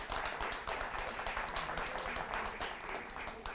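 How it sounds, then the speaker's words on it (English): An audience claps for a quiz team at a televised academic quiz competition, a dense, continuous round of applause heard close and loud from start to finish without a break. "Let's go ahead and give them a round of applause."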